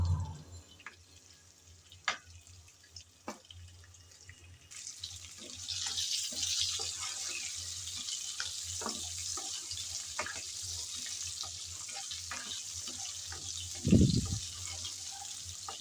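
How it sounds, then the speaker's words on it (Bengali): Boiled potatoes frying in hot oil in a pan, with a steady sizzling hiss that starts a few seconds in and continues throughout, plus occasional clinks and scrapes from stirring and a louder clatter near the end. "নেড়ে চেড়ে আলুগুলো ভেজে নেব"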